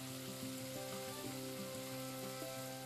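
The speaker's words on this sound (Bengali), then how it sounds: "আর একটু ভাজা দিচ্ছে" Sea pangas fish fries in a pan, a steady, close, even sizzle that continues without a break and with no voices.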